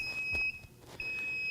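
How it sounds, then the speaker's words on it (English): A heat press for sublimation printing sounds a high electronic beep three times at even half-second intervals, sharp and clear over a faint room hum. "I do know that it will beep for me"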